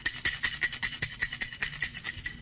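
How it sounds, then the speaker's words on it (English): A wooden fire patrol warning rattle shaken by hand, a rapid, even run of dry ratcheting clacks, close and steady, with no talk over it. "if you so much as see a spark, you immediately shake the rattle like this"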